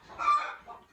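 A chicken clucks in a short burst of throaty calls, close by and fairly loud, fading after under a second.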